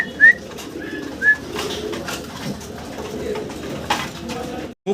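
Damascene pigeons give a few short, high calls near the start of the clip, set over a busy low background murmur.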